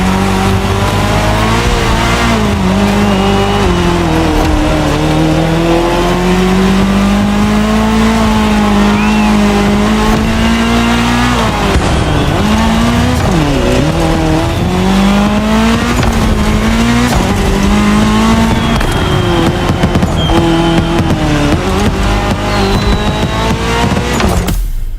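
Race cars on tarmac in The Crew Motorfest roar loudly and continuously, engines revving up and down through gear changes with occasional tire squeal, alone without speech.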